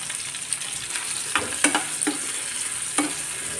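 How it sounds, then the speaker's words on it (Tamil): Onions and tomatoes are sautéed in oil for a chickpea curry, with a soft steady sizzle under several distinct stirring scrapes and taps of a utensil against the pan. "வெங்காயமும் தக்காளியவும் கொஞ்சம் எண்ணெயில் வதக்கிட்டு நம்ம குழம்புல சேர்த்துக்கிடுவோம்"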